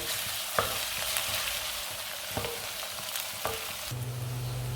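Garlic and ginger sizzle steadily in hot oil at close range, turning light golden, with a few sharp clinks of a utensil stirring the pan; no one speaks.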